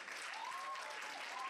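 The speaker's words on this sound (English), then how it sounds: "clap hands for them?" Audience applause at a cultural heritage beauty pageant final, a steady wash of light clapping from a crowd, fairly distant and soft, with a faint tonal whistle or hum riding over it.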